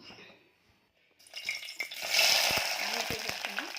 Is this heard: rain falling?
no